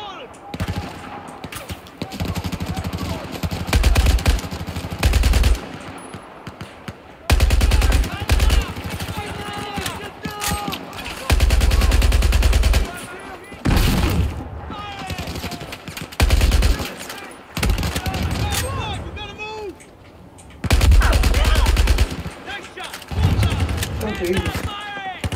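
Gunfire rings out in the Battlefield 4 video game during a mission to reach the factory: loud bursts of automatic and machine-gun fire come in several long volleys, with voices talking between and over the shooting.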